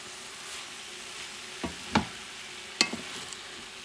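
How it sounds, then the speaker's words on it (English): Rice being stirred together with pork shoulder in a hot pan, a faint steady sizzle broken by a few sharp scraping clicks of a utensil against the pan. "Mix everything well. So the flavor transfer to the rice,"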